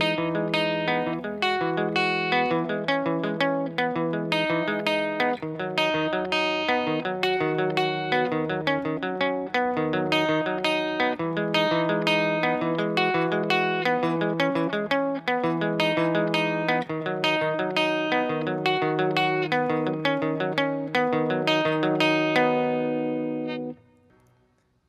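An acoustic guitar plays a continuous picked chord progression for about twenty-five seconds, bright and steady, ending abruptly with a brief fade.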